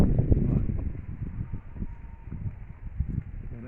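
Outdoor wind buffeting a microphone near a farm yard with a chicken coop, a steady low rumble with irregular gusty thumps throughout, fairly loud and close, with no talk.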